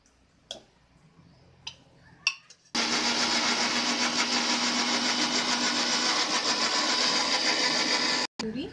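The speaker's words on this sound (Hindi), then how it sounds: "अब इस टमाटर को हमें मिक्सर में पीस के इसकी प्यूरी बना लेंगे" A few clicks, then a mixer grinder pureeing tomatoes roars loud and steady for several seconds, cuts out briefly, and starts again.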